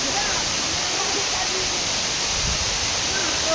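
Water falls from a mountain as a waterfall, a loud, steady broadband roar that fills the whole clip, with a faint voice or two underneath.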